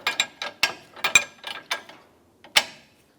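A ratchet wrench snugs down the rear sway bar end link on a 2009–2015 Honda Pilot, making a string of quick, close clicking ratchet strokes in uneven bursts, then a pause and one last click.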